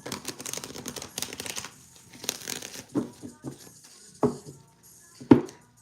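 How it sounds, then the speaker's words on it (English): Playing cards are shuffled by hand in a crisp, papery flurry, followed by a few separate snaps and riffles, with some background chatter mixed in at the start. "I'm shuffling my cards up so I can do some free generals."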